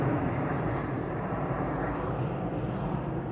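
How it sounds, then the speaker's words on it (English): A steady, broad jet roar from an executive jet flying overhead near an airport in Albany, continuous and fairly distant, with no talking. "Got an exec jet flying overhead here."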